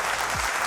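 A studio audience on a quiz show applauds in a brief burst of dense clapping, close and fairly loud.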